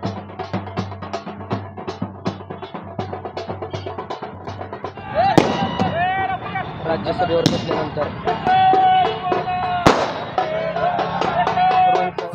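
Firecrackers and fireworks go off at a political celebration in Baramati, a rapid string of sharp close cracks followed by louder scattered bangs over a crowd's noise.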